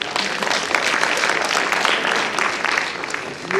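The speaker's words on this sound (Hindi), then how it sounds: "तालियों से इस्तेमाल करिए" An audience at an award function in Lucknow applauds steadily, a dense, loud wash of clapping hands filling the whole stretch without pause.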